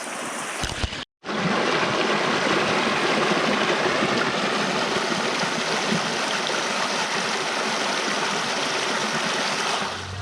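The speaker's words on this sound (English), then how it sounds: "Check out this water flow, guys." Creek water rushes steadily and loudly close by, a dense continuous flow with no voices, broken only by a brief cutout near the start.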